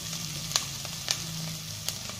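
Ingredients for millet sago khichdi fry in a pan with a soft, steady sizzle, punctuated by a few light clicks of stirring, quiet and close with no talk.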